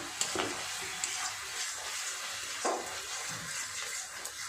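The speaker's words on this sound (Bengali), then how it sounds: "খুব ভালোভাবে মশলাটা কষিয়ে নিয়েছি" Spice masala for chana paneer is stirred and fried in a pan, giving a steady close sizzle with a few scraping stir strokes over it and no voices.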